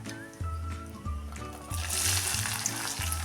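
Steamed garlic hits hot oil seasoned with asafoetida and sizzles loudly over low flame, the frying swelling to a brighter crackle partway through, with faint clinks in the background.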